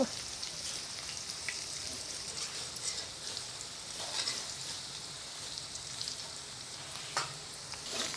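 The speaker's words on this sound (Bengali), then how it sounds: "তো লাল লাল করে ভেজে নেবো আজকে আলু" Potatoes fry in hot oil with a continuous faint, hissing sizzle like light rain, plus a few occasional soft pops and stirring taps.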